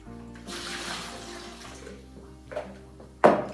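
Tap water runs into a kitchen sink while escarole is being washed, a soft steady stream that swells briefly with a louder splash near the end, with no talking.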